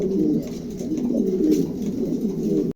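Indigo and undulation-coloured pigeons kept in pairs for sale coo softly and steadily, a low, close, repeating murmur with no talk over it.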